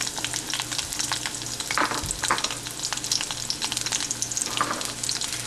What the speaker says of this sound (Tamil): இது வெட்டி வச்சுருக்க சின்ன வெங்காயத்தை போடுறேன்